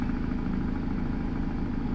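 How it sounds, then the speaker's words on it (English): Cummins N14 engine with its Jake brake engaged, modded into a truck-driving video game: a steady, fairly quiet rapid rumbling drone with a throbbing low pulse, continuous and alone without speech. "you can roll that Jake brake and just let it eat"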